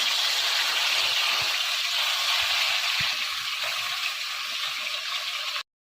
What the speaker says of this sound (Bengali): সবগুলো মাছ ভেজে দিই